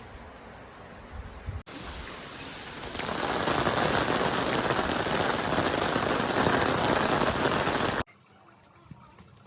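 Heavy rain pours down in a loud, dense, steady roar that starts abruptly after a short quieter stretch, holds for about six seconds, then cuts off sharply.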